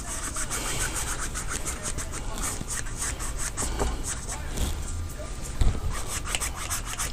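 A 1.5 inch paintbrush scrubs steadily across canvas, blending light blue into dark paint in a grayscale cardinal scene, giving a continuous close rubbing swish with rhythmic strokes throughout.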